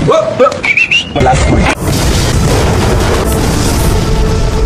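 A loud, booming bomb explosion from the film Skanda erupts and rolls on as a sustained rumbling roar, following a few brief whistling and clattering effects.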